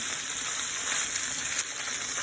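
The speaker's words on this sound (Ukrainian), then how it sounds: "Під час смаження м'яко потрібно періодично помішувати" Meat fries in a pan over medium heat for stuffed peppers, giving a steady, dense sizzling hiss that stays even and close throughout, with no talking.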